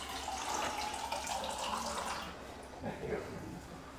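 Faint water runs from a tap into a glass as a soft, steady pour with a slight gurgle near the end.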